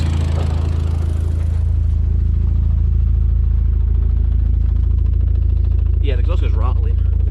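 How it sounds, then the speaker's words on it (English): A running Opel Corsa OPC replacement engine idles loudly and steadily with the exhaust rattling, a continuous close-up clatter over the deep engine drone, and a voice briefly heard near the end. "the exhaust is rattling"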